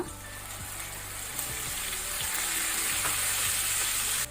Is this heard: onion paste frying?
yes